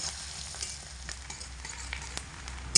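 Thickly sliced onions frying in a pan over low heat while being stirred, giving a steady soft sizzle broken by light scraping taps of the spoon, with a sharper clack near the end.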